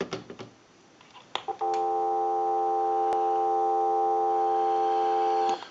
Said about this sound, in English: Go ahead and give you some dial tone.